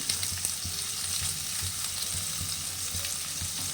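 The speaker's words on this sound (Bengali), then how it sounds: "আদা বেগুন আর কাঁচা লঙ্কাটা হালকা ভেজে নিই" Ginger, brinjal and green chilli fry in a pan with a steady, close sizzle and occasional soft stirring clicks, continuous and fairly loud throughout.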